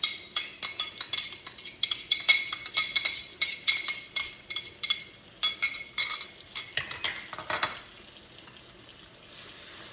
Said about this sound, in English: We're just going to swish that around.